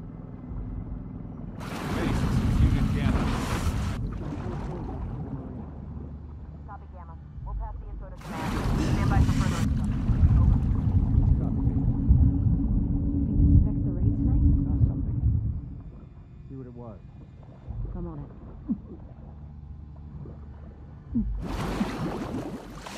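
A boat engine in The Last of Us Part 2 rumbles and gurgles steadily on the water, with people talking over it and several louder bursts breaking in.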